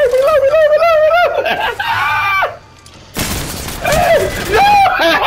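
Gunfire rattles in the Apex Legends video game, a burst of shots partly buried under loud, excited shouting and laughter from nearby players.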